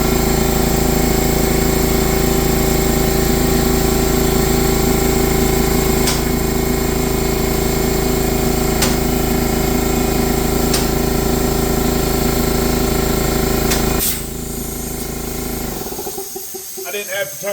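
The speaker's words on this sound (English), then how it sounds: "I might just let that compressor going." An air compressor runs loudly and steadily in a garage during service work on a Road Glide Special, a constant mechanical drone with faint clicks, before it winds down near the end.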